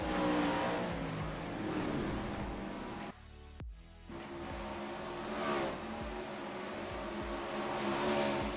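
Non-wing 410 sprint cars run hot laps around the Volusia dirt track, their engines droning and revving steadily. The roar dips briefly midway, then swells again as the cars continue circling.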